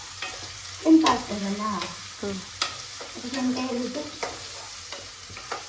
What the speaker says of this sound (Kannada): ಶುಂಠಿ ಇಷ್ಟು ಹಾಕೊಂಡು ಇದನ್ನು ಮಿಕ್ಸ್ ಮಾಡ್ಕೊಳ್ತಿದ್ದಾರೆ. ಫ್ರೈ ಇದು ಬರಬೇಕು.